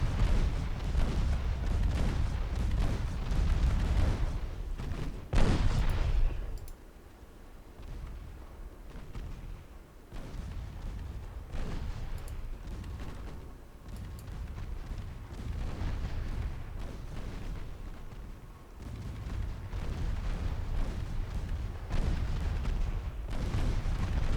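Naval 2-inch guns in Ultimate Admiral Dreadnoughts firing in steady, rumbling booms that overlap into a continuous barrage, with a heavy blast near the start and dense, distant-sounding gunfire throughout.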